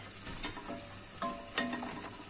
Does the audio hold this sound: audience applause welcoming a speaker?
no